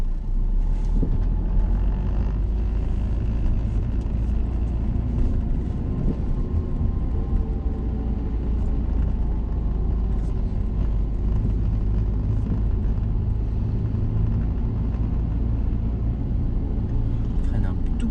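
Car interior during a learner's driving lesson while parking practice goes on, a low steady engine and road rumble with gentle slowing under braking, with voices talking over it much of the time.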